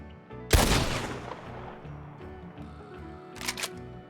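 Arthur fires his gun in Red Dead Redemption 2: one loud, sharp shot rings out and decays, followed later by a couple of quick mechanical clicks over low background music.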